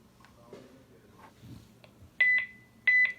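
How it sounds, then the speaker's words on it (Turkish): A dome camera that records to an SD card, installed in an elevator cab, gives loud electronic beeps during Wi-Fi setup: two quick double beeps, close and clear, over faint background noise. "Kamera dıt dıt diye ses veriyor."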